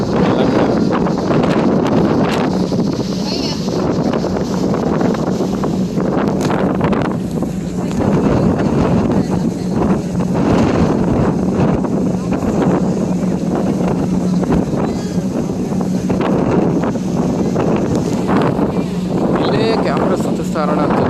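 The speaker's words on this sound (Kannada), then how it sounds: "ಸಿಕ್ಕಾಪಟ್ಟೆ ಗಾಳಿ ಇದೆ ಅಂತ" Strong wind on a Sydney ferry buffets the microphone in a constant loud, low roar, with a person talking underneath throughout.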